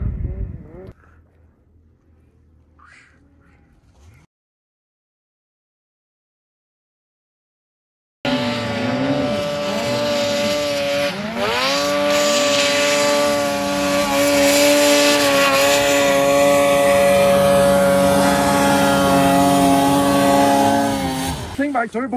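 A loud turbocharged engine revs hard on a hill climb, its pitch rising and wavering under strain for over ten seconds after a brief silent gap, with speech heard beforehand.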